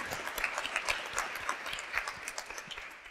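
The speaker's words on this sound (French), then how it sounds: "n'oublions pas d'applaudir aussi Paul-André" A church congregation at a Sunday mass applauds Paul-André, with dense, steady clapping that stays fairly close and even for about three seconds before thinning slightly at the end.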